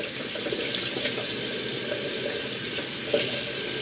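Tap water runs steadily into a sink while being warmed, a continuous close splashing hiss at even loudness with no voices.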